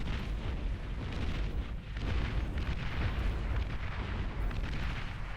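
Naval cataphract units firing in the Beyond All Reason strategy game, a dense, continuous rumble of heavy booms and blasts that runs loud and unbroken throughout, with no voices.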